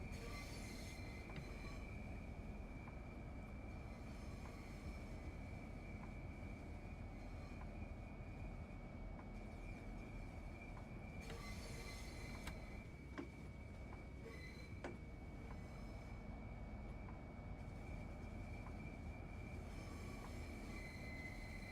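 Train Sim World gameplay with HST sets on the Midland Main Line: a steady rumble of a train in motion, with wheels squealing and metallic rail clanks at intervals. The sound is continuous and even, with no voices.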